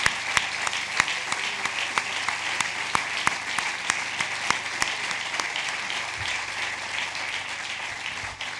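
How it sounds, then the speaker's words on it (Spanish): An audience at a political gathering in Bilbao gives sustained applause in tribute to Jo Cox, a steady wash of crowd clapping with sharper individual claps recurring at a regular beat throughout. "rindamos un tributo con un aplauso a Joe Cox"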